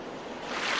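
Brief wash of ocean waves and surf from the game The Legend of Zelda: The Wind Waker HD, a soft, rushing swell that grows slightly louder over under a second, with no voices.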